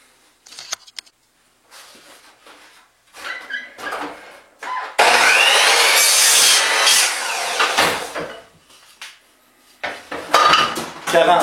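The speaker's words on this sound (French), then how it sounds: "Je vais donc faire une première coupe pour à 45 degrés pour avoir des beaux joints." Wood for a frame being sawn at a 45-degree angle, with clattering handling noises at first, then a loud close stretch of rasping, grinding cutting strokes before more knocks and handling.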